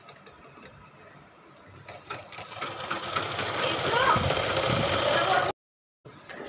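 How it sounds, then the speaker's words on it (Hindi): A sewing machine stitches stretched elastic into a salwar, starting with a few separate clicks before building into a loud, steady whir of rapid needle strokes, then cutting off abruptly and briefly starting again. Someone talks over it. "अब उसको खींच कर इसको सिलाई चलाएँगे।"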